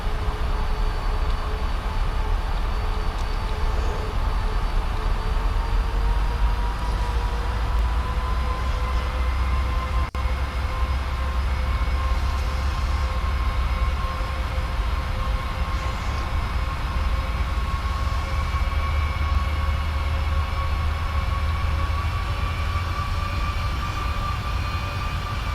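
Airliner engines at takeoff thrust in a flight simulator game, a steady loud roar with a rising whine that holds evenly throughout, with no talking.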